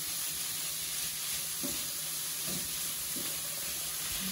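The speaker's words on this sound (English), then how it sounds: "our butternut squash is going in. Cook that up, saute that up a little bit." Butternut squash sautéing in a pan for an enchilada casserole gives a steady, close sizzle and hiss, with a few soft stirring scrapes breaking through at intervals.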